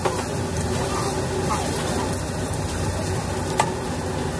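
Garlic hits shallow frying oil in a home kitchen with a steady broadband sizzle and faint stirring, continuous and fairly close throughout.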